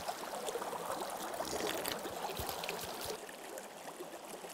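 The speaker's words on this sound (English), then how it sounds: "there's so much pressure underground that it's bubbling out of the ground" Spring water bubbles up out of the ground under underground pressure in southeastern Minnesota, a faint, steady trickling and gurgling with a few soft low pops, heard alone.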